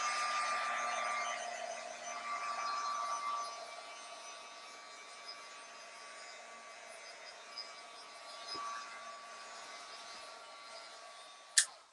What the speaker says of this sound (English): I'm going to go ahead and give this a quick heat set